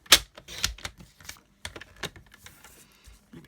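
Designer series paper is cut to size for a handmade card, giving a series of sharp, close clicks and crisp scratchy snips at an irregular rhythm.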